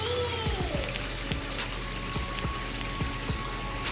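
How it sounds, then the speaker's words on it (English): Water from an aquarium waterfall system splashes and patters steadily, a continuous fizzing trickle with scattered drips, close and moderately loud. "Amazing waterfall system."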